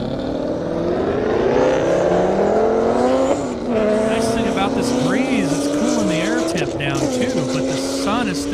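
Drag race cars, a Pontiac GTO against an 810-horsepower Corvette Z06, roar and accelerate down an airport airstrip. The engines rise steadily in pitch with gear-shift dips, loud and continuous, and a commentator talks over them.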